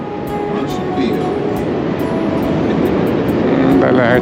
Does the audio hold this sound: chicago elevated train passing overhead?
yes